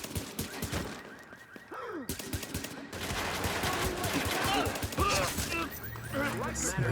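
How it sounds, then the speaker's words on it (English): Gunfire in a video game, a sniper rifle firing in the background under a dense mix of shots, game effects and talk, with bursts and clatter throughout. "Sniper in the background."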